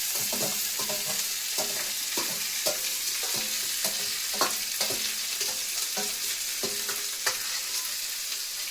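Chicken and vegetables frying in a pan, a steady close sizzle with repeated scraping and stirring clatters at an irregular rhythm, no talking.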